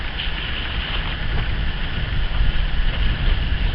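Steady, loud wind gusting outdoors while a tarp shelter is pitched, a broad rumbling rush buffeting the microphone with no pauses.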